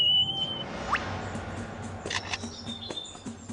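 A lyrebird mimics a camera shutter in the forest, giving sharp mechanical clicks and a rapid burst of clicking, with softer birdlike chirps and a rising whistle earlier.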